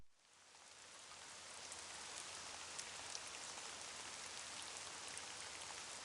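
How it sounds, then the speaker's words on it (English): Rain drumming on a roof, a faint but dense and constant patter with scattered sharper drops, steady throughout with no voices. "The rain hitting the roof."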